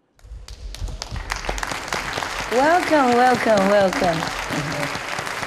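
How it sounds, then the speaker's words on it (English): An audience greets children from a vegetarian school with warm applause: scattered claps build into steady clapping while a voice calls out a welcome over it. "now let's all welcome the children from the Vegetarian School with a warm round of applause"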